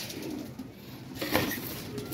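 Pigeons coo softly at feeding time where grain and water are set out, a faint, low murmur of several birds carrying on throughout, with a brief flutter or rustle near the middle.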